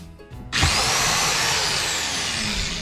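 A power drill in a Jayco camper with an electrical fault whirs loudly to life after a brief rustle of wires, then runs continuously at steady speed, close by with no talking.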